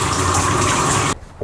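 Shower water running in a steady, loud hiss that fills most of the moment, then cuts off abruptly near the end and leaves a faint room tone.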